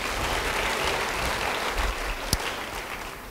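Steady, full applause from a church congregation, a dense wash of clapping that holds evenly throughout with one sharp louder clap near the end.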